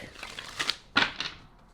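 Tarot cards being shuffled by hand, with a few quick, crisp riffling bursts spaced closely together, near and fairly quiet, in a short, otherwise still moment.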